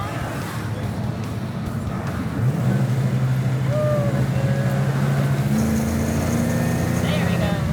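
A 1972 Dodge Charger Rallye driving in second gear, its engine droning steadily and rising in pitch partway through, with occasional voices over the cabin noise.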